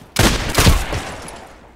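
Two quick, loud shotgun blasts from an MP-133 pump shotgun in the Contract Wars video game, each a sharp close boom, followed by a long reverberant tail fading away.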